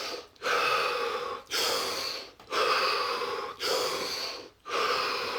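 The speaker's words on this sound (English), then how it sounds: "take a series of deep breaths" A series of five deep breaths, each a long loud rushing inhale or exhale separated by short pauses, close and steady in rhythm with no talk.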